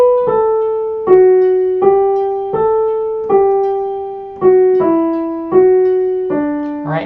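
Piano playing the hymn Prayer of Thanksgiving in a smooth, connected legato: a slow melody of about nine notes, each one decaying into the next, close and clear with no voices.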